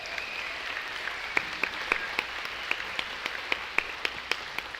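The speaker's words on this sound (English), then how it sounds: "y'all give them another round of applause for our soloists." Audience applause for the soloists at a jazz camp finale concert: steady, fairly faint clapping with a few sharper individual claps standing out, no talk over it.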